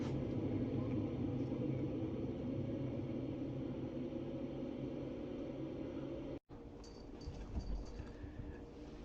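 Race cars in a NASCAR-style sim racing game roll off pit road for the pace lap at California, a steady broadband engine rumble droning throughout, briefly cut out near the end before a slightly thinner engine drone resumes.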